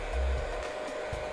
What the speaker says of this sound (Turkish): Tabii ki saç kurutma makinesiyle.